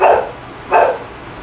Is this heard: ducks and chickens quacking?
no